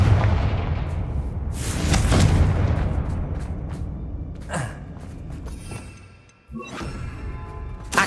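A Confringo explosive spell in Hogwarts Legacy, heard as several loud booming blasts with sharp bursts and rumbling tails, fading to a quieter stretch before a final pop.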